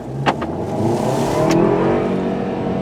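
A VW Golf SportWagon's turbocharged engine revs and accelerates close by in sport mode, with quick sharp paddle-shift blips early on before a steady rising drone.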